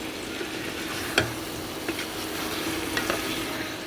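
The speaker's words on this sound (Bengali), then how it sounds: "আমি আলুটা এর মধ্যে দিয়ে দিলাম, মাংসের সাথে আলুটা কষা হয়ে যাবে" Chicken and potatoes sautéing together in a pan for chicken biryani, a steady close sizzle with occasional sharp scraping stirs and clacks, no talk.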